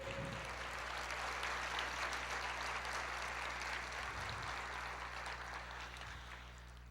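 Church congregation applauding the Lord during a sermon, a sustained, dense wash of clapping from many hands filling the room, steady for several seconds before easing slightly toward the end.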